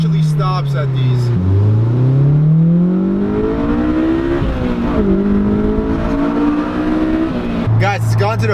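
Honda S2000 roadster's VTEC engine revving hard, pitch climbing steadily through the gears with a brief dip between shifts, loud and close, ending in a chirping squeal.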